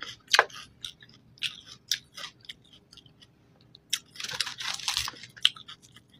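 Someone chews Arabic salad leaves close to the mic, with irregular crisp crunches and wet bites in quick bursts, separated by short quiet pauses.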